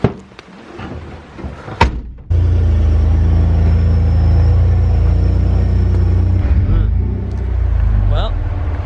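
A 4WD vehicle climbs a West Coast dirt track: a quiet start with a door-like thump, then a steady loud low engine rumble that holds throughout with slight variation.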